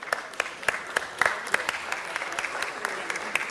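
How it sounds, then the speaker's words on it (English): Applause at a Los Angeles city council meeting in City Hall, with scattered sharp individual claps standing out over a moderate, steady round of clapping that lasts throughout. "Let's give them a round of applause."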